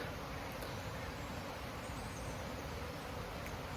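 A faint, even hum of many honeybees buzzing on orientation flights, blended into steady broadband outdoor noise with no distinct pauses.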